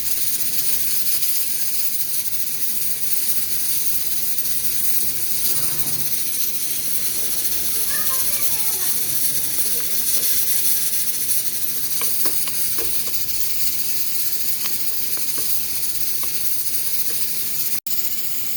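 Onions, ginger and garlic fry in a pan with a steady, loud, continuous sizzling hiss throughout, alone without talk.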